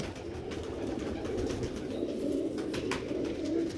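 Pigeons coo close by in a continuous low, throaty murmur that stays steady throughout.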